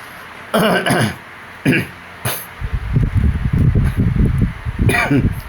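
A few sharp coughs burst out close to the microphone, followed by a stretch of muffled talking.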